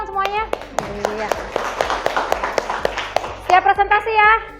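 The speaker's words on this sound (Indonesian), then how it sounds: "Oke, tepuk tangan dong semuanya." Students in a classroom clap their hands together in a burst of scattered, irregular claps. Children's voices are heard before the clapping and again as it ends.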